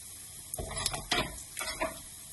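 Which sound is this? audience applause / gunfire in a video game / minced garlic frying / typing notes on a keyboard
minced garlic frying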